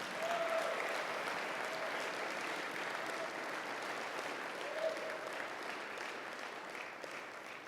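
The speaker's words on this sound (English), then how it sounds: "I'd like you to join me in giving a round of applause to Cummings Levi for earning his Eagle Scout" Steady applause from a school assembly audience honoring an Eagle Scout award, a dense even wash of clapping lasting throughout at moderate distance, with faint voices mixed underneath.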